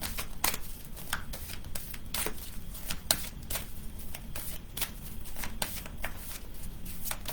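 Oracle reading cards being shuffled by hand, a quick run of crisp riffling and slapping bursts repeating throughout, close and fairly quiet with no talking.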